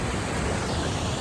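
Fast-flowing water at Harvalim waterfalls in Goa, a steady, loud rushing roar with no pauses.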